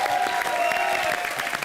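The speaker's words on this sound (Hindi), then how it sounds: "जोरदार तालियां राहुल सर के लिए।" Loud studio audience applause for a guest on a comedy show, dense steady clapping with a faint crowd murmur beneath, no talk over it.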